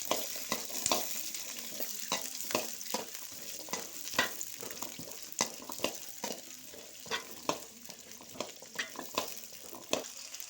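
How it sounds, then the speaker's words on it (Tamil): Onion, ginger and garlic frying in groundnut oil in a deep wok for chicken varuval: a constant loud sizzle with rapid, regular stirring clicks against the pan, close by, with no talking. "கல்லெண்ணெயை ஊற்றி வெங்காயம், இஞ்சி, பூண்டு இதெல்லாம் போட்டு நல்லா செவக்கிற அளவுக்கு வணக்கிட்டு"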